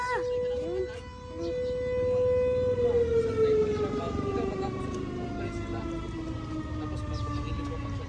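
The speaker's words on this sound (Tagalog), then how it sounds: "ayan na JD, ang wangwang, ayan na." A wailing siren sweeps slowly downward in pitch, steady and fairly loud, with other voices and noise faintly underneath.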